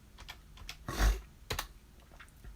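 Typing on a computer keyboard: a handful of quick clicks spread unevenly, with one louder cluster of keystrokes and a sharp tap after it, close up and otherwise quiet, with no talk.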